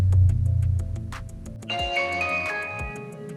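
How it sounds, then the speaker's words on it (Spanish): A budget Lloyd's home security camera plays its power-on chime, a short run of bright electronic tones rising over a steady background hum, close and clear. "ese es el sonido de encendido."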